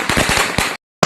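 A Diwali firecracker bursts close and loud in a rapid crackling string of pops, then briefly goes silent before another loud burst.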